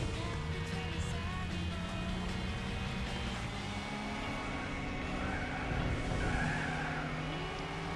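Nissan Fairlady race car in Gran Turismo 4 racing with sustained engine drone and prolonged tire squeal and skidding, steady and close throughout, with gear-shift pitch changes and no talking.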